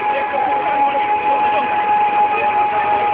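A motorcycle engine runs at a bikers' rally, a steady idling drone with a constant hum and faint tonal whine, holding even and fairly loud throughout, with no speech.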